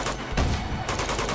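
In the video game Uncharted 2, loud close bursts of gunfire crack out as a rapid fusillade, dense overlapping shots filling the short moment.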